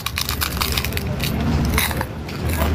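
Crunchy food chewed close to the mic, a dense run of loud crackling crunches and bites that continues steadily without pause.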